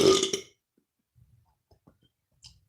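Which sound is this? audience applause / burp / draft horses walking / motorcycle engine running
burp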